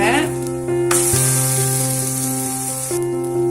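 Tomato dosa batter sizzles loudly in oil on a pan, a bright continuous hiss with a steady hum underneath and a couple of brief clicks, with no talk.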